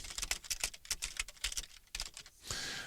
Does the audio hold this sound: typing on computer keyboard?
yes